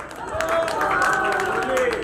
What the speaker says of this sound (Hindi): जोरदार तालियां, थैंक यू, जोरदार तालियां